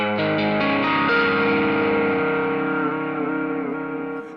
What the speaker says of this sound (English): one of the guitar tones that I used in the demonstration using the active DSP effects